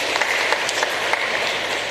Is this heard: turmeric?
no